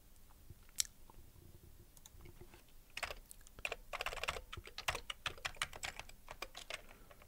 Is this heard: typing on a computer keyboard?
yes